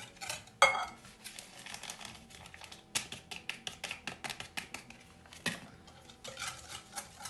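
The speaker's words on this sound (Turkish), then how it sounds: "Şimdi bunu güzel yine birbirine karıştırıyoruz." Chocolate banana cake batter mixed in a bowl, with one sharp clink and then a quick run of light tapping and scraping of the utensil against the bowl, close and moderately quiet.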